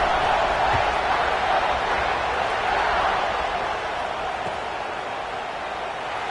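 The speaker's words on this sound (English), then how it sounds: "this crowd is buzzing after that last score" Dense, steady crowd roar in a football video game stadium, a continuous loud wash of noise with no breaks, slowly easing slightly toward the end.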